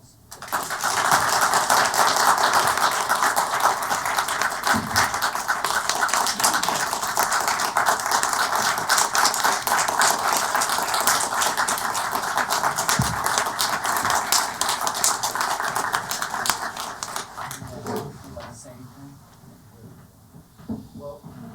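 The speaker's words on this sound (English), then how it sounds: "please join us in a round of applause" Audience at a city council meeting breaks into sustained applause, a loud, dense patter of many hands clapping for about seventeen seconds before fading out.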